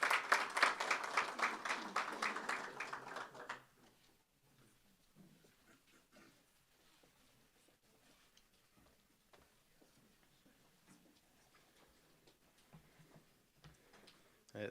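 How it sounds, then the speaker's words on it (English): An audience at a 4IR centre launch event claps for a speaker taking the stage, a sharp burst of rapid clapping for a few seconds that quickly fades into quiet room tone with faint rustles. "A round of applause."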